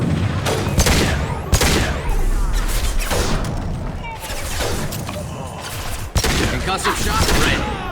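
Heavy gunfire from a Krogan in Mass Effect 2, repeated booming shots and crashing impacts in a steady, loud battle mix lasting several seconds, with a voice briefly heard under the fire.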